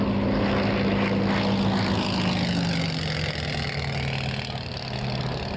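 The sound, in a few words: Spitfire aircraft flying at an airshow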